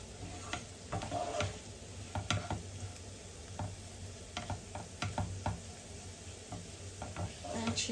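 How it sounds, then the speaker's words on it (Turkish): Bulgur and onion toasting in a pan, a quiet steady sizzle broken by sharp scraping and tapping of a spoon stirring against the pan. "Bulgurumuz soğanla şöyle biraz kavrulsun."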